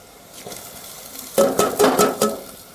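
Chillies tossed into onions frying in a pan for a Gujarati stuffed brinjal curry. A soft sizzle under quiet background is followed by a burst of clattering stirring and scraping strokes close by.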